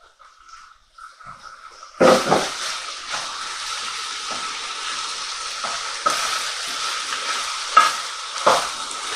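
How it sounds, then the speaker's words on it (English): Drained beef drops into a hot pan for an Italian ragu and starts to sizzle loudly, then a steady frying hiss runs beneath repeated scraping stirs and clanks from a utensil against the pan, with no talking. "let's return the meat to the pan"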